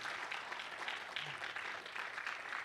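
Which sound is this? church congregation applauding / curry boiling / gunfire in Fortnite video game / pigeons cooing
church congregation applauding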